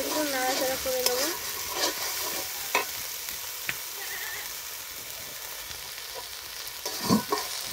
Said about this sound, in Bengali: এগুলো আমি ভালোভাবে কাঁচা গন্ধ চলে যাওয়া পর্যন্ত ভালোভাবে একটু নাড়াচাড়া করে নেবো।